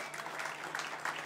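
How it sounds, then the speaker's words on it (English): Audience applause fills a music lecture event held in a basement venue, a dense, steady clatter of clapping that stays even throughout the short stretch with no voices over it. "Please give them a big clap."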